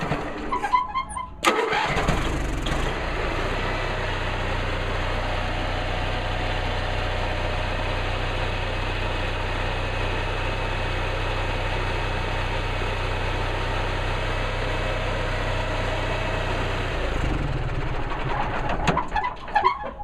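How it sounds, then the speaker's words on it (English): An RV engine cranks briefly, catches and settles into a steady, rumbling idle that runs on evenly for a long stretch before fading, with faint birds in the background. "It sometimes takes a couple cranks"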